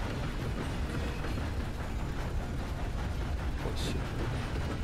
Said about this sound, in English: Now I can barely hear him because of the train.